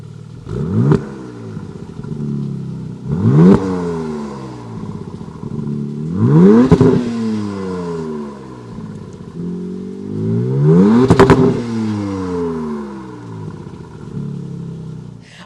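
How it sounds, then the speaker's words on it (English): The active exhaust on a 2026 Dodge Charger Sixpack muscle car, 550 hp, revs four times, each blip a sharp, loud rise and fall in pitch, close and with no talk, separated by a rumbling idle. "You can already probably hear this exhaust system."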